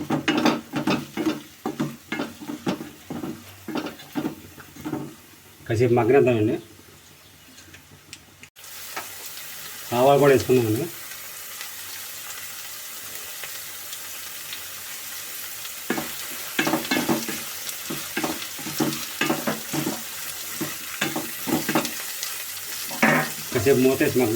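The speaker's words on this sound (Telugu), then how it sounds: "పచ్చిమిరకాయను ఉల్లిపాయ ముక్కలు కూడా వేసుకుందాం వేసుకుని మొత్తం కలుపుకోండి" Onion pieces and green chillies frying and being stirred in a pan for a village-style ridge gourd and dried prawn curry, with close sizzling and repeated scraping and stirring strokes, plus a few short bursts of louder activity.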